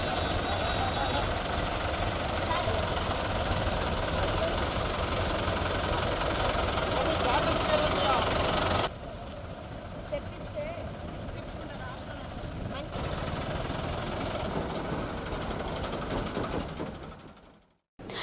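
Tractor engines idle and chug steadily during flood evacuation work, a continuous rough diesel drone that drops in level partway through and cuts off near the end, with voices in the background.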